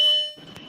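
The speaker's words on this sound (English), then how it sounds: "I think we should have 2 hours of just Justin's fire alarm" A smoke or fire alarm beeps with a steady, piercing electronic tone that holds for about a third of a second and then cuts off, leaving quieter room noise behind it.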